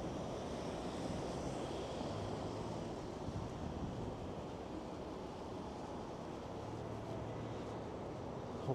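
Wind buffets a microphone while someone walks outdoors through Toronto's Liberty Village toward the Bentway, a constant low rumbling roar that fills the whole stretch with no other clear sounds.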